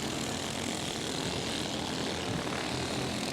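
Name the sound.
race car engines at a speedway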